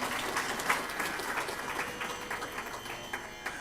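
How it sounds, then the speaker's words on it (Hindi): An audience at a religious discourse in Hindi claps steadily, a dense, moderate patter of many hands that holds for a few seconds without cheering. "तो एक बार तालियों से आपका अभिनंदन।"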